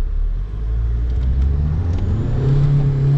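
A KTM 250 SX-F dirt bike revs hard for a race start, a loud, close, steady engine roar with a low rumble that climbs slightly in pitch.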